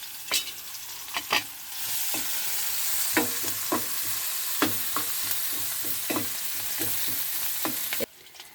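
Chopped onions and two green chillies frying in a pan, a continuous close sizzle broken by repeated spoon scrapes and stirs, with no voices.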